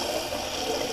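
A Rex Ambassador safety razor rinsed under running sink water, a continuous close hiss of flowing water with no pause.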